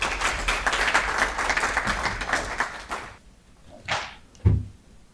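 An audience at a credit union conference applauds for about three seconds, dense and moderately loud, then dies away into near quiet with a couple of faint knocks and shuffles.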